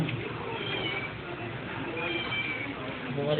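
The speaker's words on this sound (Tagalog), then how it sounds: "Bumalik na naman yung pusa" A cat meows steadily in a room where a computer system unit is being repaired, mixed under a dense background and faint talk.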